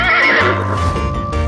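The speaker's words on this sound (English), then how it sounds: "horse" A horse neighs loudly and close, a single long whinny that rises then trails off in shaky pulses, alone with no talk.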